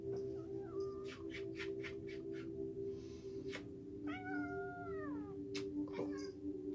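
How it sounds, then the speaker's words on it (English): A cat meows once, a clear drawn-out cry, over a steady low hum with a few faint clicks and taps, all fairly quiet. "Even this cat."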